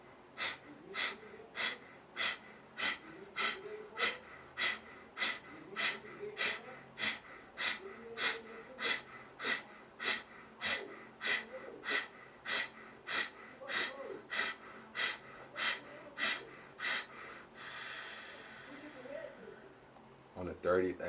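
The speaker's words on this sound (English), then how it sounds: "inhale, exhale. And that's the thing. We're going to do that 30 times without break or interruption" Rapid rhythmic pranayama breathing: forceful, evenly spaced inhales and exhales repeat about once a second for a long unbroken round, close and clear, ending in a longer exhale.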